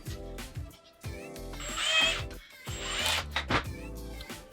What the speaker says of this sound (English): So I'm going to start by drilling this.